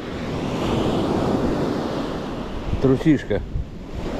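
Sea surf washing steadily onto the shore at Yalta on a cold day, a continuous broadband wash, with a voice speaking briefly near the end.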